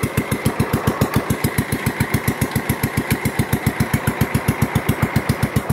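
A mud runt's small engine idles just after starting, a steady rapid chugging putter of even, regular beats, close and moderately loud, with no talk.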